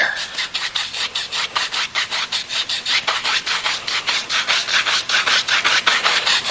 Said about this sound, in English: we're making little crisscross strokes, little X strokes